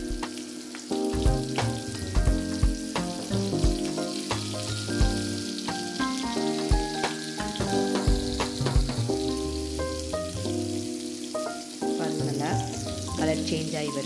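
Mutton kebabs on sticks fry in a pan and are turned as they brown. A strong, continuous sizzle crackles throughout, accompanied by background music.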